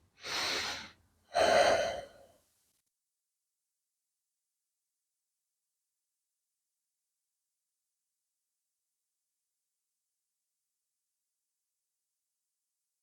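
Two sharp breaths, an inhale then an exhale, taken close to the mic during a Pilates circle exercise, followed by a long stretch of silence.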